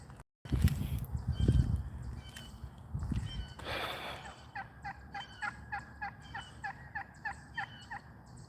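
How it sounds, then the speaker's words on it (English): Turkeys gobble in a rapid chorus of rhythmic, warbling calls, louder toward the end, after some rustling and handling noise at the start. "Let's make these turkeys famous."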